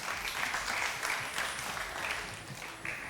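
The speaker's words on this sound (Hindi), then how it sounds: "बहुत सारी तालियां इन दोनों के लिए।" Studio audience applause at a televised Ramadan quiz show, a steady wash of clapping that holds at an even level throughout without breaks.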